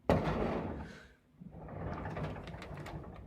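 Someone rummaging through desk drawers, sliding one open and shut with a burst of wooden rattling, then a brief pause and more shuffling, clattering movement of items inside; no one speaks.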